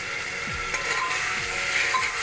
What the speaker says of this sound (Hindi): ये जो हमने लोबिया भिगोया था अब वो डाल देंगे